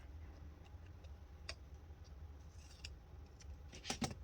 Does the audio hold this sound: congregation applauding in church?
no